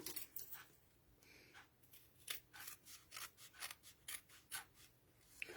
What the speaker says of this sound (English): I'm going to snip that off too.